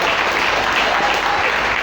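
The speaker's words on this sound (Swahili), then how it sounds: "Sasa jamani, tuwachapie makofi" Applause from a church congregation at a testimony gathering, steady and dense clapping filling the room for a couple of seconds, with no voices over it.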